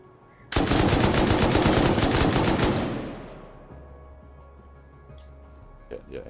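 M2 gunfire in Rust Console Edition, a loud, close, rapid automatic burst lasting about two seconds that trails off into fading echo, with faint clicks afterward.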